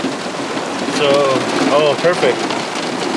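Wind-driven rain hisses steadily outdoors on the Niagara River bank during a thunderstorm, loud and close, while someone speaks briefly over it.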